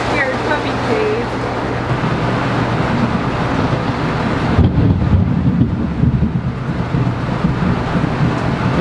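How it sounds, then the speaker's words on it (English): Storm wind roars steadily through an RV campsite on a rainy Florida day, a dense continuous rush that swells louder midway, with a dog's whimpers and a person's voice faintly under it. "This is an awesome storm."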